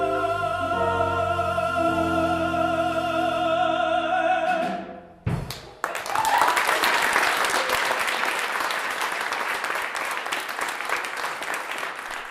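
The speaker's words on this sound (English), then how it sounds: "the audience told him with their thunderous applause and cheers" A concert audience bursts into thunderous applause and cheering after music fades out, a dense, loud wash of clapping that continues steadily for several seconds, heard alone.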